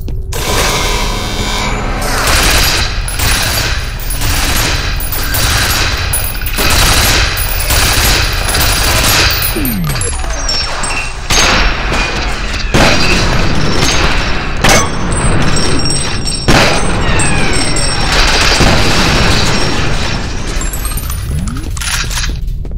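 Gunfire in the shooter game FEAR, loud repeated automatic bursts and heavy impacts with metallic clinks of falling shell casings, sustained and close throughout.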